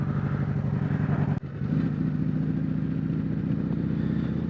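Deep, steady rumble from a 2020 Harley-Davidson Road Glide Special with a Stage II S&S 475 cam, heard from the saddle while riding, with one brief dropout near the start before the loud low drone resumes.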